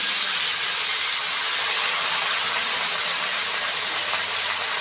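Spice paste hits browned chicken frying in a pan, sending up a loud, dense, continuous sizzle and hiss that holds steady throughout, close and with no talking over it.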